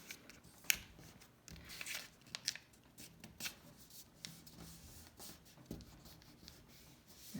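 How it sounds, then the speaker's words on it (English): Paper being folded and creased for a bookmark, soft close-up rustles and scrapes with short sharper crinkles scattered through, quiet and unhurried. "So I'm gonna take this point right here, and I'm gonna fold it up"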